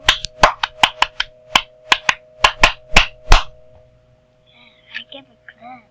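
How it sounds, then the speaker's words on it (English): Sharp clapping sound effects in the game Limited Simulatour, about a dozen loud crisp claps in an uneven quick rhythm, followed by faint quieter sounds and a brief voice. "I gave a clap"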